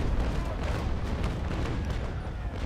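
Cannon fire from a broadside of 6-pounder long guns in the naval combat game Naval Action Legends, a dense, rumbling barrage of overlapping booms that carries loud and steady through the whole stretch with no talk.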